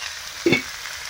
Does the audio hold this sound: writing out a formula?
no